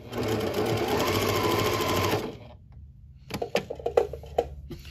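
A sewing machine stitches back and forth over mask elastic, running steadily at first and then stopping, followed by a few sharp mechanical clicks and ticks close by, with no talk.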